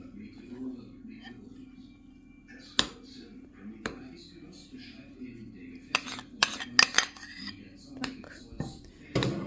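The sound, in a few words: mixing eggs into yeast dough starter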